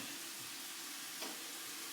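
A faint, steady sizzle of onions frying in a pan, with a soft stir or clink partway through.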